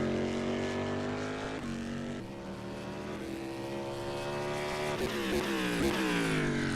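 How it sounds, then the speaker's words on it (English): A DPi prototype race car engine in a racing video game roars loudly and continuously, its pitch climbing and dipping through gear changes as it powers along. "We'll let it turn the corner and have a listen to this engine."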